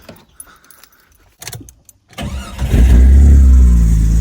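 A 2000 Jeep Cherokee with freshly replaced fuel injectors cranks briefly after faint key jingles, then catches and settles into a loud, steady idle close by.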